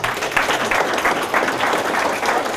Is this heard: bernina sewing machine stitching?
no